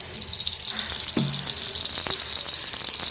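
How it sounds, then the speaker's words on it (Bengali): Cooking oil going into a hot wok (kadai), giving a steady close hiss and sizzle that runs without a break, with a short clatter about a third of the way through. "এবার এগুলো আমি রান্না করব। তার জন্য কড়াইতে দিয়ে দিব পরিমাণ মতো তেল।"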